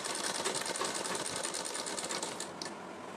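A sewing machine stitches triangle lace onto a suit, whirring in a fast, even run of needle strokes close by, then slowing slightly near the end.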